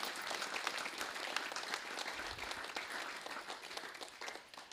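Audience applause at the end of a class session, a steady wash of many hands clapping at moderate level for the whole stretch without speech on top.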